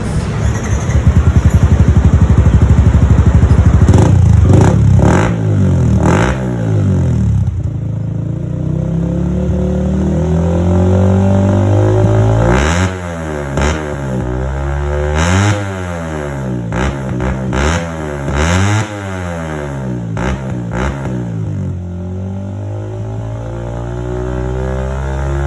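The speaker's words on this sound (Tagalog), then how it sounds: "Yamaha Sniper 155. Soundcheck natin yung ating Bilane GP2 ng walang silencer." A Yamaha Sniper 155 underbone motorcycle fitted with a Bilane GP2 exhaust and no silencer revs hard and loud up close, with repeated throttle blips rising and falling through the whole stretch.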